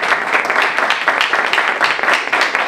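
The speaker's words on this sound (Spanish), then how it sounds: "podéis aplaudir también" Audience at a conference on the Pacific Alliance breaking into applause after a talk, loud close clapping from a room of listeners, pulsing in uneven surges for under three seconds.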